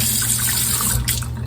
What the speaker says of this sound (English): Here, I'm going to use the sink and just add a little drop of water.